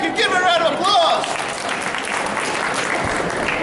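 Audience at a psychic expo hypnosis talk breaks into a round of applause for a volunteer, dense clapping that continues steadily after a voice speaks briefly over the start.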